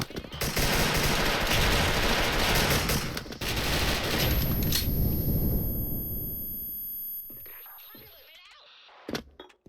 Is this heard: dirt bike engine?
no